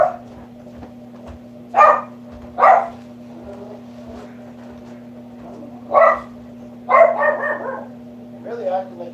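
A dog barks in a few short bursts separated by pauses, fairly close, over a steady low hum.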